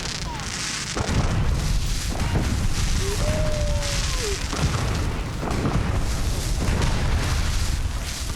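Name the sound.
fireworks exploding in Fallout 4 video game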